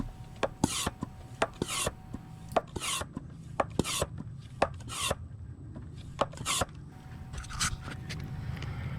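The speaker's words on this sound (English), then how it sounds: "you'll want to give the extractor a few more pumps, again until you feel resistance in the pump" Hand pump of an oil extractor worked for a Yamaha Waverunner oil change, a rhythmic series of scraping, rasping strokes repeated over and over at close range, steady and moderately loud, with no voices.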